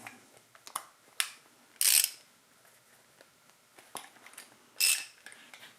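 A long wrench turns the engine of a John Deere 755 compact tractor by hand, giving sparse, quiet mechanical clicks and ratcheting taps, with two brief louder scraping bursts, all close and without talk.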